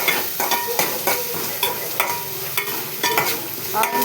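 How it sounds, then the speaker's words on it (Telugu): Curry leaves and dried red chilies fry and sizzle in hot oil, with a steady crackle and repeated scraping clicks as a spoon stirs them around the pan. "కరివేపాకు, ఎండుమిర్చి వేసుకొని కలుపుకోవాలి. కొంచెం గోల్డ్ కలర్ వచ్చేదాకా వేయించుకోవాలి."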